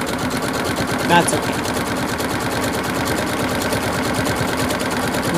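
A home sewing machine stitches craft cord for a koozie or trivet, a steady rapid mechanical whir running the whole time, with a brief voice speaking over it.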